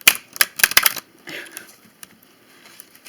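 Gilded, glossy tarot cards being riffle shuffled: a quick run of sharp, papery flutters and snaps in the first second, then softer rustling and a few isolated clicks of the large deck, close and fairly loud.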